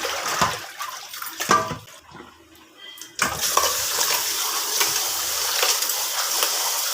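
Goat intestines being rinsed and swished in water in a home kitchen, with close sloshing, splashing and dripping that pauses briefly and then continues steadily without speech.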